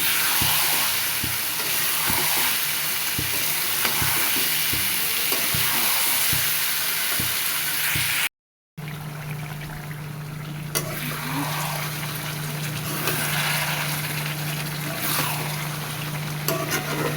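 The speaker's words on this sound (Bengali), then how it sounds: "এখন এর ভিতরে কেটে রাখা টমেটো কুচিগুলো সব দিয়ে দিব, দিয়ে ভালো করে কষায় নেব।" Chopped tomatoes fry and are stirred into cooking meat in a pan, giving a steady loud sizzle with repeated stirring scrapes and a brief break midway; no one speaks.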